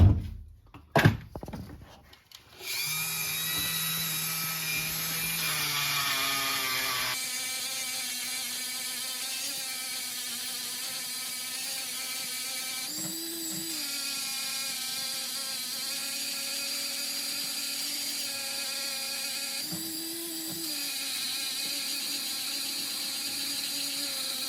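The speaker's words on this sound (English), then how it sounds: "so now I'm going to use the Dremel" A Dremel rotary tool grinds a metal collar, giving a steady, high whining hum that runs continuously after a brief start, with a slight pitch dip twice as pressure changes.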